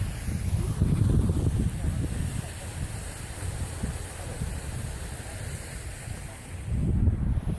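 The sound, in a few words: wind blowing snow outdoors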